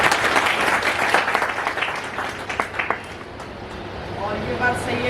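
Audience applause at a BJP worker felicitation ceremony, a crowd clapping steadily and fairly loud throughout, with some voices mixed in.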